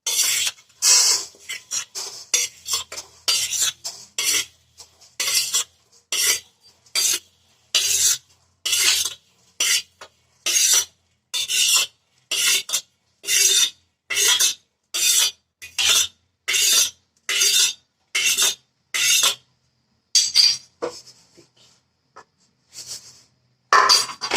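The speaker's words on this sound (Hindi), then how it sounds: "अब तिल को हम एक बर्तन में ट्रांसफर कर लेते हैं।" Roasted sesame seeds scraped from a wok into a vessel with a spoon: a steady run of about twenty sharp rasping scrapes in even rhythm, loud and close, with no talking.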